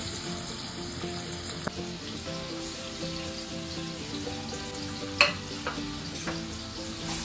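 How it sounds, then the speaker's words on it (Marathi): Finely chopped onion fries in hot oil with mustard seeds and asafoetida, a continuous close sizzle with scattered pops and occasional stirring clicks, steady in loudness and free of speech. "आणि कांदा छान असा परतवून घ्यायचा आहे"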